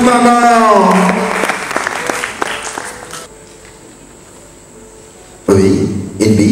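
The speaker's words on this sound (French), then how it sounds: "on applaudit très très fort pour maman" Audience applause for a mother at a Congolese film awards ceremony, mixed with music and voices early on, then fading to near silence before a loud burst of clapping returns near the end.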